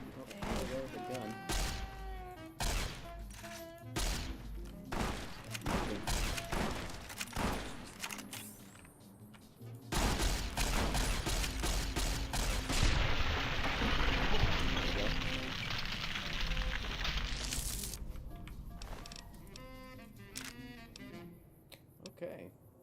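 Gunfire from weapons in the video game Fallout New Vegas during the Old World Blues content, a rapid string of loud shots and thumps over game sound and a player talking.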